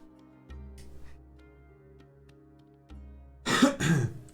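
A man clears his throat and coughs twice in quick, rough bursts close to the microphone, following a stretch of low hum and faint background sound.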